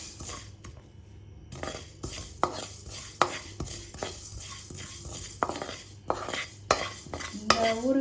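Mustard seeds crackle in hot oil for an Indian amla pickle, a soft background sizzle under frequent clinks and scrapes of a metal spoon against the pan, fairly quiet and close.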